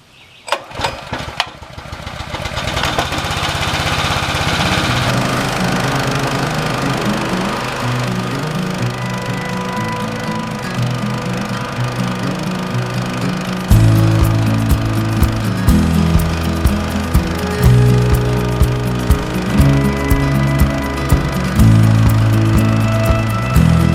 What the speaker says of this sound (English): I'm gonna fire up the power washer and get this thing cranking.